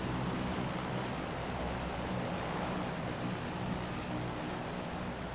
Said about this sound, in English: I looked behind when I first heard that plane